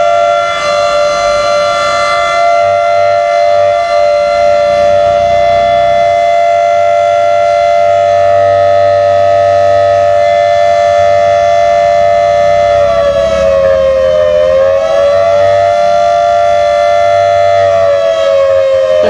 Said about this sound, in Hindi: तो सायरन बज रहा है